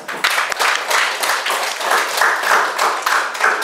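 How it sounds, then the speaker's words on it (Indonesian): A classroom of students claps together in a brisk, fairly close round of applause that stays steady for a few seconds without fading. "tepuk tangan."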